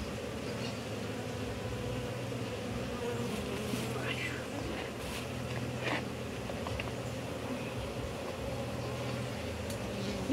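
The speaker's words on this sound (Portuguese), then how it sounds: "Já viu uma abelha nascendo, Cassie?" Honeybees hum in a dense, steady drone at an opened beehive during beekeeping work, with close insect buzzing throughout and no spoken words.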